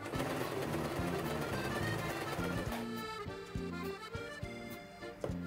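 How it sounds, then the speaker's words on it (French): A sewing machine stitches fabric onto a strap along its full length, a continuous mechanical whir with regular rhythmic knocking from the needle. "je positionne mon tissu de façon à coudre toute la longueur, donc l'ensemble du tissu avec la sangle"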